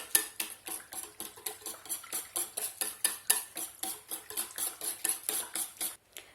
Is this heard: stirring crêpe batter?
yes